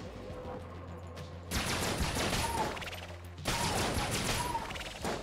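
A makeshift cannon in Enter the Gungeon fires in two loud, sustained bursts of rapid blasts, each lasting about two seconds and separated by a short lull.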